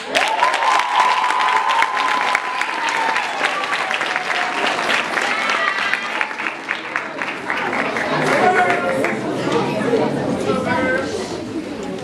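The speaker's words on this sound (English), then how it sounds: "let's give them a big round of applause." Loud applause from a crowd fills the room at a school event, steady clapping that carries on with light chatter and a voice speaking over it.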